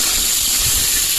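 Water hits a hot pot of quail curry cooking over an open fire, giving a loud, sustained hiss and sizzle close by with a faint low bubbling underneath and no voices.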